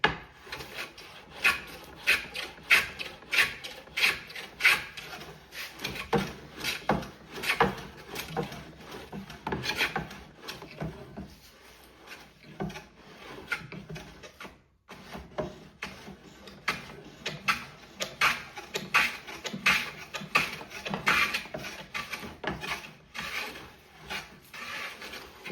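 Jack plane finishing a wooden surface during sash cord work, a long series of close scraping, shaving strokes with woody rasp and brief pauses between passes, steady and moderately loud.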